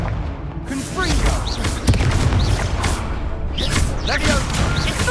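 Confringo explosion spell cast in Hogwarts Legacy, dense crackling blasts and booms amid combat clatter, with a sharp impact partway through and shouting voices over it.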